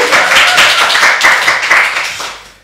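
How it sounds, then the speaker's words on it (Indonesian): An audience claps in a sustained, dense burst of applause that stays steady and loud, then fades over the final second. "Tepuk tangan boleh?"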